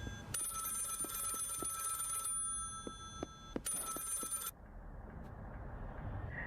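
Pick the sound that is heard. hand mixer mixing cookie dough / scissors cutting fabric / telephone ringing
telephone ringing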